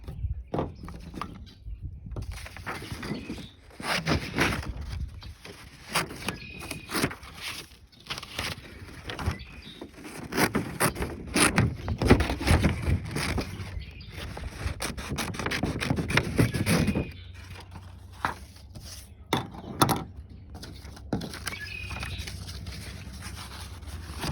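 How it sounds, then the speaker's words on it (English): Straight scissors cut a yellow paper circle for a dandelion craft, with close dry snips and rubbing scrapes coming in irregular bursts over about twenty seconds. "you're going to cut out your yellow circle with your straight scissors also"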